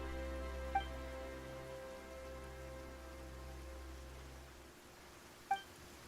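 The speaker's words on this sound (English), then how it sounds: "Why is it raining all of a sudden?" Rain falls suddenly as a soft, steady hiss over a low hum, with two faint sharp ticks.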